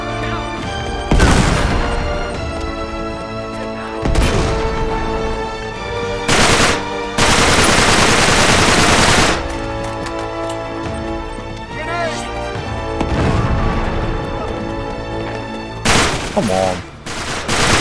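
Loud gunfire rattles through a shootout in Uncharted 3: Drake's Deception Remastered, with several heavy bursts and booms separated by short lulls while someone talks over the action.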